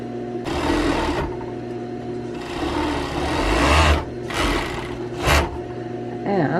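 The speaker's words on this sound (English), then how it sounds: "And you just serge it like that." Serger sewing the raw edges of a pant-leg hem on homemade flared trousers, running in loud close bursts of rapid mechanical whirring with brief pauses and a steady electrical hum underneath.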